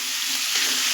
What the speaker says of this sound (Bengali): তার জন্য আমি 5-6 বার নাড়াচাড়া দেবো যাতে চিনিটা গলে যায়